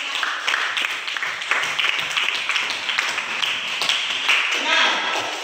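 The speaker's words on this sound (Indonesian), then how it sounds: "Tepuk tangan dulu." A class applauds during a micro-teaching session on data protection, with scattered, uneven clapping from a small group of students in a classroom, moderately loud and somewhat sparse rather than a full ovation.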